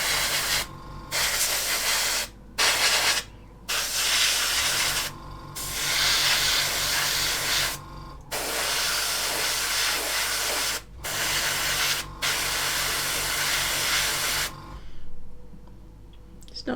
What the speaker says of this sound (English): this is really just as simple as spraying over your parts with this gloss